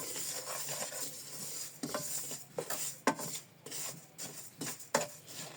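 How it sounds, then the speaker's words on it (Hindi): Dry fruits roasting over very low heat in a pan for flaxseed laddu, with steady scraping and stirring strokes, a faint sizzle and occasional sharp utensil knocks against the pan, close and alone without talk. "आंच आपकी ड्राई फ्रूट को रोस्ट करते हुए बिल्कुल लो होनी चाहिए।"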